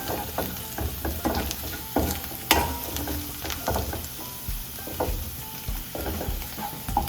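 Crushed garlic and ginger fry in a pan for an egg roast, a steady close sizzle broken by repeated scraping stirs and occasional sharp clinks of the utensil against the pan.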